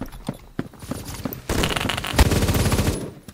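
PPSh-41 Obrez submachine gun in a video game: a few scattered sharp shots early on, then a loud sustained burst of rapid automatic fire running to the end, with other game sounds mixed in.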